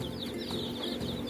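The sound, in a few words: Rhode Island Red chicks peeping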